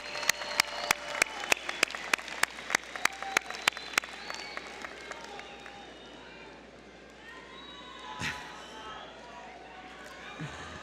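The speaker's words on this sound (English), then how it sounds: "let's have a round of applause from you to them for all they did to help you get here" Graduates clapping at a fall university commencement ceremony: crisp, distinct claps close by in a quick, uneven rhythm at first, thinning into a softer distant patter over a quiet hall.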